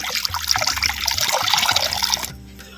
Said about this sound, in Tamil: தேவையான பச்சை தண்ணி அரை லிட்டர் சேர்த்துக்கிறேன்